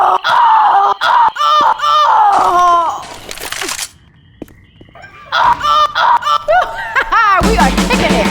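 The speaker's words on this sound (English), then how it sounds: "Rochelle is this cringy when screaming." Rochelle, a survivor in Left 4 Dead, screams loudly again and again in rapid, shrill bursts, with only brief gaps between the cries.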